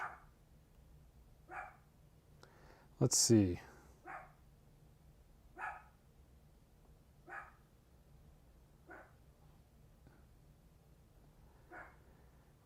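A dog barks indoors in a series of short, fairly faint barks spaced a second or two apart, with one louder burst early on, while a person speaks quietly nearby.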